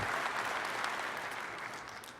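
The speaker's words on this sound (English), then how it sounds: "Let's give our rather nervous speaker a big round of applause" Audience applause at a DEF CON hacker conference talk, a steady wash of many hands clapping across a large hall, fairly distant and even, with no voices over it.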